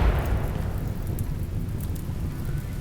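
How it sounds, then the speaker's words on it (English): Rain in the video game Rimworld, a dense, steady rumbling wash of falling rain with a low heavy undertone, continuous throughout without talk. "Oh, it started raining too."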